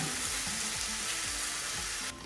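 Ground turkey sizzles loudly in a pan with onion soup mix, with a steady frying hiss and rhythmic scraping strokes as it is stirred, close and continuous.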